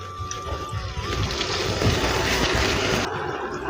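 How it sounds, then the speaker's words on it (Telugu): A cup of water is poured into a cooking curry of cluster beans and green chillies, giving a steady close splashing rush that runs for several seconds with no talking. "అదేవిధంగా 1 కప్పు వాటర్ కూడా వేసుకోవాలండి."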